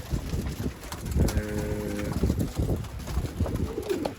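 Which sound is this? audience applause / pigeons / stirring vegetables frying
pigeons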